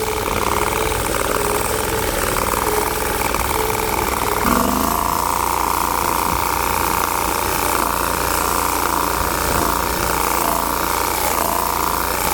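Bolens 1600H lawn tractor with a Briggs & Stratton 20 HP V-twin engine idling steadily at close range, a constant mid-pitched drone with a slight shift partway through; distinct backfire pops are not clearly evident.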